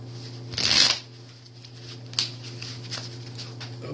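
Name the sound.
shuffling Angel Prayers oracle cards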